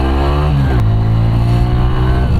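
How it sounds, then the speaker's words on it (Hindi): A TVS Radeon motorcycle launches from a standstill after a U-turn, its engine note rising loud and close with a gear-change dip partway, steady exhaust drone throughout. "यहाँ से लेते हैं यू टर्न और करते हैं बाइक का लॉन्च। इसका इनिशियल पिकअप देखते हैं।"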